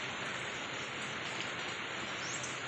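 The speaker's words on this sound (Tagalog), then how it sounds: "Hindi naman masyadong malakas ang ulan pero goods pa rin ito para" Light rain falls steadily on a farm in a durian-growing area, a soft, even hiss of drops on leaves and surfaces with no voices and no change in strength.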